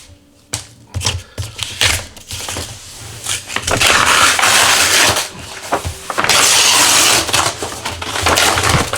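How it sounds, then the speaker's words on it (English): Cardboard and plastic packaging of an Alienware M17 R5 17-inch gaming laptop box being torn and ripped open by hand, with loud crinkling, crunching bursts in close, irregular stretches and no talking. "Just gonna see if I can rip this open."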